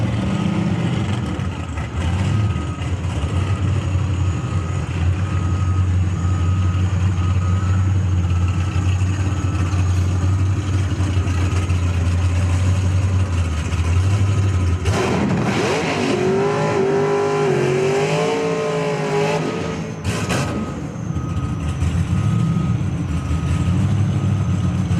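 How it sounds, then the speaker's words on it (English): An IHRA Pro Stock drag race car at Dragway at a raceway in Hebron, Ohio, idles with a steady low drone, then a louder burst of engine revving and roar builds midway and fades, heard from a distance among background noise. "Tony Scott coming in an IHRA Pro Stock class car."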